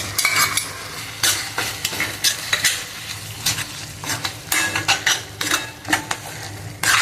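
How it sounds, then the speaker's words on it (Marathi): Ground masala paste fries in oil for a rustic prawn curry, a close, steady sizzle broken by repeated scraping stirs of a spoon against the pan, with no talking. "वाटून घेतलेलं आहे ना, हे पण याच्यात तेल सुटेपर्यंत छान परतून घ्यायचं मस्त"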